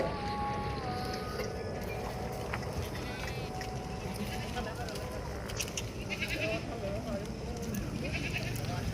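Goats bleating now and then amid the dense bustle of a crowded goat market before Eid, with constant chatter and voices from many people all around.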